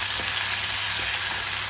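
Potato and tomato pieces sautéing in a pan for prawn thokku, a short continuous close sizzle with faint stirring, no talking.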